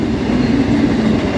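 A westbound Norfolk Southern intermodal freight train rolls past close by, a steady loud rumble of wheels and railcars with a low droning tone throughout and no pauses.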